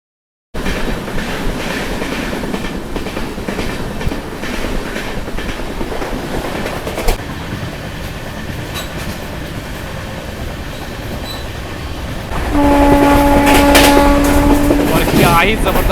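A WAP-5 electric locomotive hauling the Amrit Bharat Express from Secunderabad (Charlapalli) rolls along with steady clatter, then blasts a loud, sustained horn near the end.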